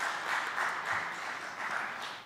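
An audience at a conference session applauds a speaker with brisk, continuous clapping at moderate loudness for a couple of seconds.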